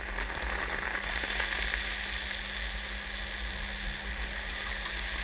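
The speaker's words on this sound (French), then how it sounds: "je viens poser mes donuts dans l'huile chaude" American-style donuts frying in hot oil at 180 degrees give off a dense, continuous, bubbling sizzle that stays steady and close throughout, with no talking.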